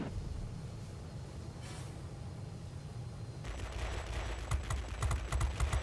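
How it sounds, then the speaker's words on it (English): In World of Warplanes, a Tier X heavy fighter's guns open up after a few seconds of steady engine drone, bringing rapid crackling fire with sharp hit-indication ticks layered over the roar. "Getting that nice hit indication noise, keeping the guns cool"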